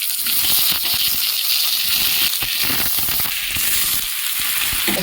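Ash gourd and potato pieces dropped into hot oil with grated ginger, bay leaf, green chilli and whole cumin, giving a steady loud sizzle and hiss throughout with faint rattling.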